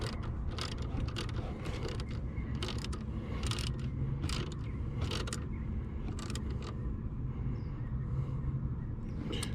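Repeated ratchet clicks in short bursts while bolts on a ported 87mm MMX throttle body are snugged down on a Dodge Durango SRT, close and mechanical over steady low background noise.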